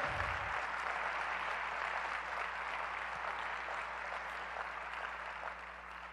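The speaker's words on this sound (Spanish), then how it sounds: "Dale un fuerte aplauso al Señor" A church congregation applauds in praise during a sermon, a steady, dense wash of clapping that holds evenly throughout at moderate volume with no voices over it.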